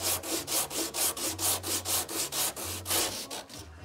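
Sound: sanding microballoons and epoxy with 36 grit sandpaper

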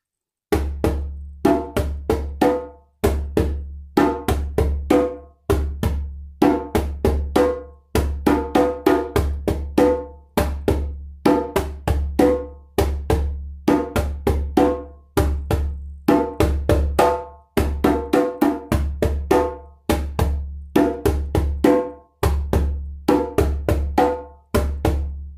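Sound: Masacote rhythm played on a drum set

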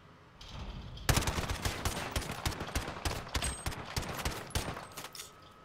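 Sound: gunfire from the MP5/MP7 in video game Call of Duty Modern Warfare

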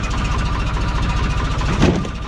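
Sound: Bizon combine harvester engine idling after starting

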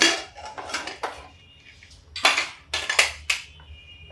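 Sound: opening a pressure cooker of sweet corn curry

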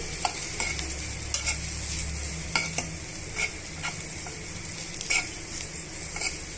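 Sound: frying and stirring chapati roll filling with pepper powder

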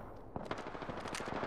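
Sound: gunfire in the video game Apex Legends

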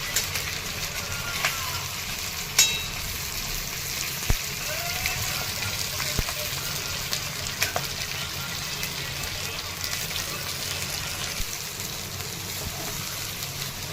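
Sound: stuffed green chillies shallow-frying in oil on low heat

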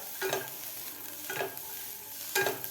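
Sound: roasting cluster beans (gavar) in a pan

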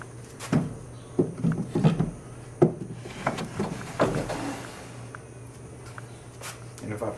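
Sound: wooden drawer pushed into a DIY pecan chest of drawers

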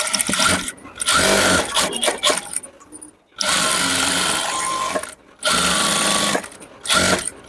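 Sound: sewing machine stitching a chudidar top

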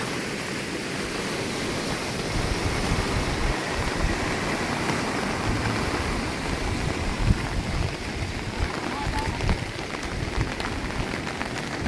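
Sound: flooded river rushing

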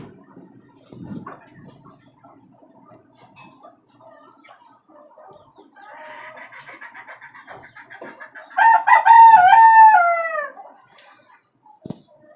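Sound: domestic chickens clucking and rooster crowing on a farm

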